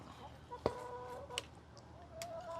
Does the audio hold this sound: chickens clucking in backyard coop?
yes